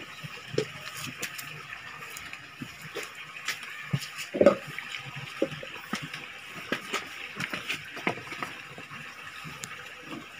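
Water is added to fish eggs during artificial stripping spawning of tawes fish, with soft trickling and small splashes in a light, steady wash.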